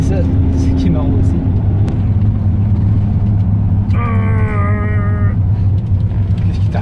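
Pontiac Firebird muscle car with a 467ci engine rumbling on a race track, a loud, steady low engine drone running throughout under talk, with a brief rising tonal whine partway through.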